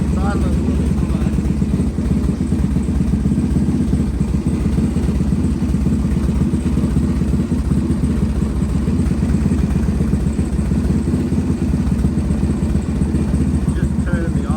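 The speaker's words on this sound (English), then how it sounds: "It's idling a little bit high." A Suzuki DR600 motorcycle engine idles slightly high, a steady, loud, close thumping rhythm that runs unbroken for the whole stretch with no pauses.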